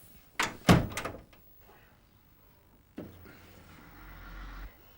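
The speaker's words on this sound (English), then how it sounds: "Shut the door." A door shuts with a few sharp knocking thuds close by, then a softer thump follows amid a quiet room hum.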